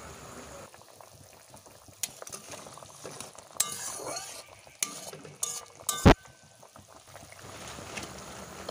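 Mustard fish curry with pieces of fish simmering in a pan, a soft bubbling boil broken by sharp clinks and knocks of a utensil against the pan, with one loud clatter near the middle.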